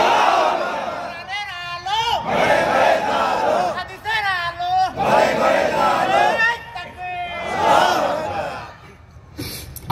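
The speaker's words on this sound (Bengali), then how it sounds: "আরে ওটা নারায় তাকবীর দাঁড়াইয়া দিচ্ছে" A large gathered crowd shouts the Nara-e-Takbir slogan in loud, repeated call-and-response bursts, with roaring voices rising and falling in waves and brief pauses between chants.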